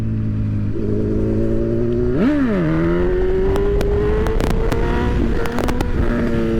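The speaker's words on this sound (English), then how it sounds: "the bike's about to red line and my engine braking is kicking in, along with me chopping the throttle" A motorcycle engine revs hard during a wheelie, pitch climbing, dipping sharply around the two-second mark and rising again toward redline as the throttle is chopped and engine braking kicks in; loud and close with no talk.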